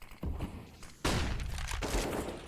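Rifle spray fire on the Dust 2 map in Counter-Strike, a burst of rapid shots starting abruptly and running continuously and loud for over a second, with an earlier, softer stretch of gunfire before it.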